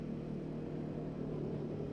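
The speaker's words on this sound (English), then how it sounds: "super smooth engine." A 2011 Honda Foreman 500 ATV's air-cooled engine idles smoothly and steadily, a low, even rumble held at constant level with no revving or talk.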